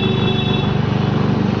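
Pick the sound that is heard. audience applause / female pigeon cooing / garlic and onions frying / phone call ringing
phone call ringing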